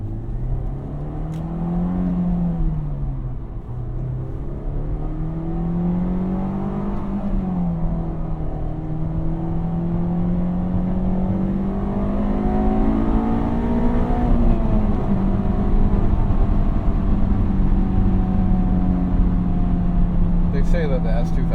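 A Honda S2000 with a manual transmission accelerates in third gear, its engine note rising and dipping in a steady, loud drone that climbs in pitch as revs build, heard from inside the car.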